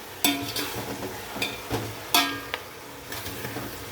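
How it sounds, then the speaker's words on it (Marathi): Coriander and mint are stirred in a cooking pot for a white chicken pulao, with a soft sizzle under repeated scraping clunks of the spoon at irregular intervals, close by. "हा कोथिंबीर पुदिना मी हलवून घेत आहे मस्तपैकी"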